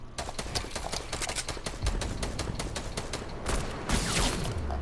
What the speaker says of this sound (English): And I have been sniped.